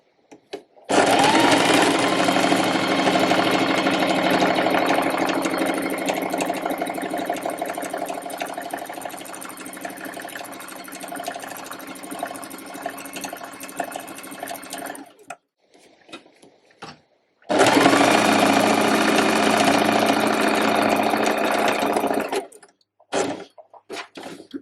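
A sewing machine runs a long steady straight stitch around the curved edge of trousers with a half elastic waist, a continuous close whirring hum that pauses briefly and then resumes for a shorter second run.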